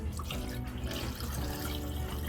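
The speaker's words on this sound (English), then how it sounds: "So I just rinse the bowl out and just pour it to the side." Rinse water from a cooking bowl splashes and pours out to the side, a short continuous wet gush and trickle heard close up with no talking.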